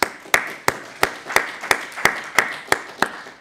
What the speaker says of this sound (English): let's give the speaker a round of applause